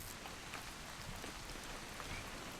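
Steady rain falls in the video game What Remains of Edith Finch, a soft, even hiss of drops on surfaces with no distinct strikes, quiet and constant throughout.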